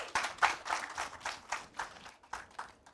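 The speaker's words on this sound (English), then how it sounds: "a round of applause for that" An audience claps in a short, steady round of applause lasting a few seconds, brisk and fairly close, with no voices over it.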